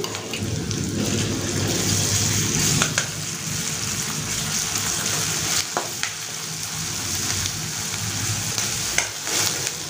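Steady, busy sizzling of ginger, garlic and onion frying in a pan with occasional scraping stirs, loud and close, continuing without pause and with no talking.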